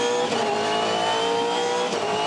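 Onboard a 2015 V8 Supercar at the start of the Sydney 500 race, the engine roars loud and continuous as the car accelerates away, with the pitch climbing through the gears.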